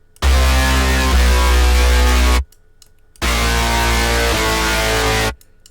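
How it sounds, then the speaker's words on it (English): A hard, distorted synth bass from the GMS plugin plays two long, loud held notes separated by a short gap, each shifting pitch partway through, with no voices. "But yeah, it got some pretty like hard bass and stuff."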